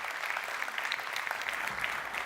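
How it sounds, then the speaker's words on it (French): An audience applauds architect Philippe Samin of the firm Samin Partners at a building project presentation. The clapping is steady, dense and moderately loud, with no talk over it. "Vous pouvez l'applaudir"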